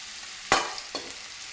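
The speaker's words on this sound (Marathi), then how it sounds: "हे सर्व पुन्हा एकदा छान असं परतून घेऊ." Bhogi mixed vegetable curry is stirred in oil in a pan, a faint steady sizzle with two brief scraping strokes of a spatula, close and quiet, without talk.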